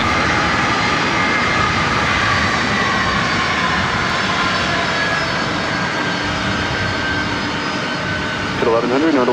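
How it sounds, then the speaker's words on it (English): A WestJet Boeing 737 MAX 8 inbound from Toronto lands at LAX with a loud, sustained jet roar that holds steady throughout. A voice is heard briefly near the end. "This is WestJet flight 1100 coming in from Toronto on a MAX 8"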